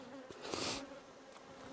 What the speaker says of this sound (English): They are crazy bees.